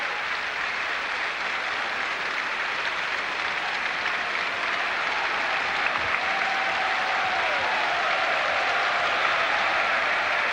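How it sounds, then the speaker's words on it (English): Sustained applause from an arena crowd at a men's gymnastics apparatus final, greeting a vault; steady, dense clapping fills the whole stretch without a break. "acknowledging the applause from the crowd"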